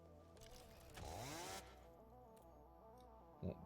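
A chainsaw in the video game Satisfactory drones steadily with a revving surge partway through, then idles on alone with no talk.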